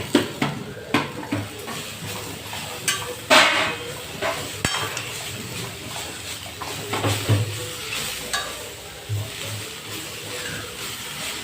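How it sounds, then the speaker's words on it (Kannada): Fenugreek leaves fried in a pan with clinking utensil and pan knocks over a soft sizzle, close and intermittent, no talk. "ಇದನ್ನು ಕೂಡ ಇದರಲ್ಲಿ ಫ್ರೈ ಮಾಡಬೇಕು."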